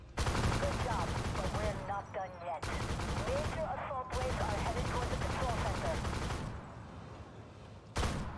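Tank guns firing in the Armored Warfare battle game, heavy booming shots and bursts in several loud blocks separated by short gaps, with a voice talking over parts of it.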